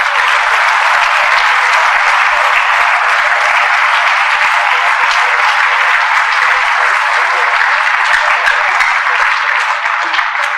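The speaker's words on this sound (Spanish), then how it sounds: "Los podemos comprometer con un aplauso para que no se nos echen para atrás" An audience at a talk on the twelve steps of Alcoholics Anonymous breaks into sustained applause, dense steady clapping from a sizeable crowd that carries on evenly for about ten seconds with no talking.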